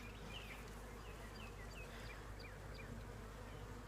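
Honey bees buzz softly around an open beehive during a frame inspection, a steady faint drone with individual insects zipping past nearby.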